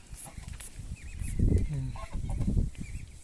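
Low, breathy calls from a Muscovy drake duck sound close by, mixed with a murmur of voices and some farmyard noise.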